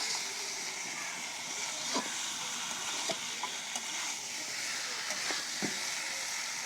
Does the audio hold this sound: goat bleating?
no